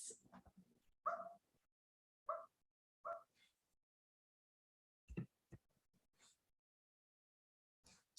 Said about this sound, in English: I am by a window and I think I can hear a dog